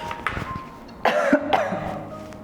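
An adult coughs a few times during an online church service, with a soft throat-clearing first and then a sharper, louder cough burst, close to the microphone.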